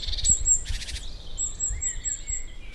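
Several birds call and chirp in bright, high bursts along the quiet, undeveloped banks of the Vilaine river near Camoël, with thin whistled notes trailing on over a low, steady outdoor background.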